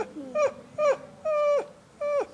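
A person's voice imitates an anxious dog whimpering, with four short, high, nasal whines in a steady rhythm, fairly quiet and close.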